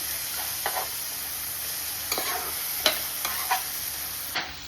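Chopped tomatoes fry in a hot tempering of oil and spices while a spoon stirs them, giving a steady sizzle with intermittent scraping strokes, close and alone.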